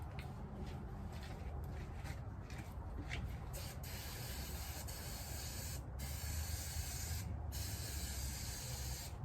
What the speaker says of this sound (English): Hand me that brake parts cleaner